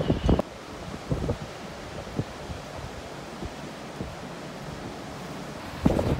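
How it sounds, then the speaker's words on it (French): Violent wind and rain, heard as a broad rushing wash of gusts buffeting the microphone with scattered knocks and rustles, fairly loud and with no talking. "le vent et la pluie sont encore trop violents pour qu'on puisse continuer"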